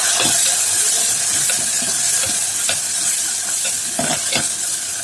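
Onions and tomatoes sauté in a pan as the base for a kumara parai fish curry, giving a steady close sizzle with repeated scraping stirs and no talk.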